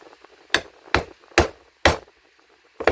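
Five sharp metallic hammer strikes ring out at a steady, unhurried pace, close and loud, with quiet pauses between blows, driving a handle onto a hatchet head.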